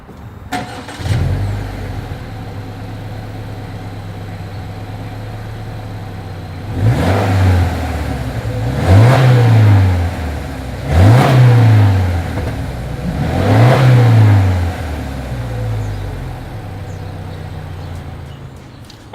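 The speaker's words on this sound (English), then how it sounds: "As always, here is that exhaust clip." A 2020 Subaru Legacy XT exhaust: the engine fires up, settles into a steady idle, then gets four evenly spaced revs that rise and fall back, loud and close, before returning to idle.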